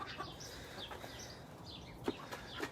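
Backyard hens give soft, scattered clucks and short calls at a moderate distance over a steady outdoor background, with no one talking.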